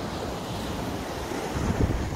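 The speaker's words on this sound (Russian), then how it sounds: "Ну, хоть море немножко шумит." Sea surf at the coast in Zelenogradsk during a snowfall gives a loud, continuous wash of waves mixed with heavy wind buffeting the microphone, swelling slightly near the end, with no talk.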